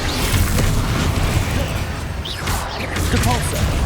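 A Bombarda blasting spell goes off in Hogwarts Legacy, a dense booming burst heard within a steady wash of loud battle noise and other spell effects.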